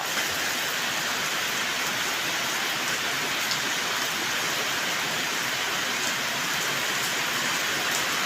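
Heavy rain pours steadily during a storm in Thailand, a dense, constant hiss of drops on surfaces that stays loud and unbroken throughout, with no voices.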